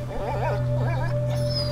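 Dogo, a dog in A Plague Tale: Innocence, lets out soft wavering whimpers over a steady droning game score, close and plaintive for under two seconds.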